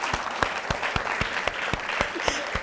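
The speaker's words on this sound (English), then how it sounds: "Give her a round of applause again" A small studio audience on a talk show claps briefly, a few distinct hand claps landing in a rough steady rhythm over a low background wash.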